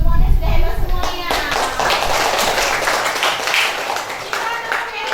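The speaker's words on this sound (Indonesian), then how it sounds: "Tepuk tangan untuk kalian semuanya, sudah hebat semuanya." Schoolchildren clap together in a classroom, a burst of quick, uneven hand claps after a loud opening, with excited kids' voices and chatter mixed through the sound.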